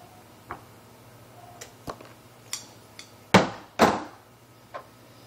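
Small snips of scissors trimming cotton wick on a Smoktech RSST rebuildable atomizer: several sharp, close clicks spaced irregularly, two louder cuts in the middle, in a quiet room.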